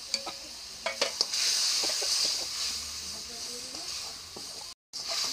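Spice paste with a little water and cumin paste is sautéed in a pan, a continuous close sizzle with a few sharp clicks of a spoon early on and a brief dropout near the end.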